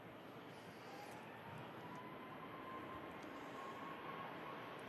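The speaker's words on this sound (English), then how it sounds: "Ryanair on the roll over there to Malaga" A Ryanair jet on its takeoff roll bound for Malaga, a steady distant engine roar holding level throughout with a faint whine above it, no voices.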